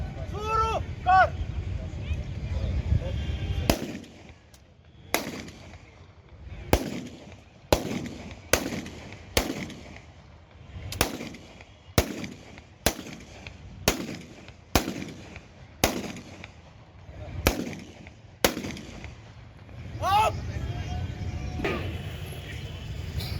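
Ceremonial rifle volleys ring out at a Republic Day parade on Berhampore Barrack Square ground, about a dozen sharp cracks at roughly one-second intervals, with crowd murmur and a voice over a loudspeaker before and after.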